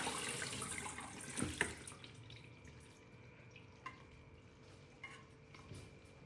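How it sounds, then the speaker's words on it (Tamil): Cooked hakka noodles drained into a colander in a home kitchen, water pouring and splashing in a steady gush that surges early, then trickles and drips with a few light clatters, no talking. "இப்போ இந்த தண்ணியெல்லாம் நம்ம வடித்தட்டில் ஊற்றி வடிச்சிடலாம்"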